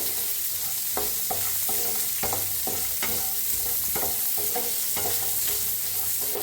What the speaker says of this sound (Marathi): वल्लभ खोबरं घेतलेलं आहे ते मी भाजून घेऊया छान असं तुपात भाजून घातलं